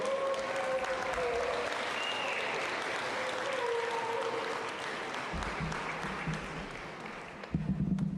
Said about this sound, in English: Let's welcome them and give them a big round of applause,